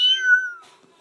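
A person's voice imitates a cat's meow, one drawn-out rising-then-falling mewing cry, close and fairly loud, fading out after about half a second with no other talk.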